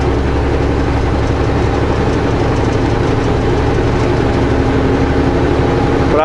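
A ferry's heavy engine drones loud and steady through the crossing, a dense low rumble with a constant hum and no pauses, and no voices.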